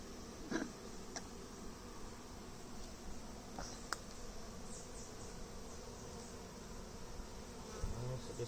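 Steady, close buzzing of many honeybees, a continuous droning hum with a few brief louder passes near the microphone.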